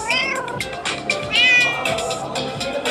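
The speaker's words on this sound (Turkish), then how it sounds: "Kedi." A cat meows repeatedly, close and clear, with several drawn-out calls of varying pitch over a steady background hum.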